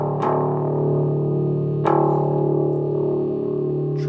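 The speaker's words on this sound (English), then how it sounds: "Maybe a little too much distortion. I'm going to turn the tone up all the way." A sustained distorted electric guitar chord rings out, struck twice, with heavy distortion and the tone control turned all the way up, giving a bright, gritty overdriven tone that slowly fades.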